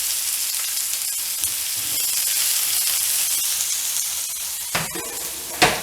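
Two chopped medium onions sizzle steadily in hot oil for an Irani pola recipe, a soft continuous frying hiss with a couple of sharp stirring clinks near the end.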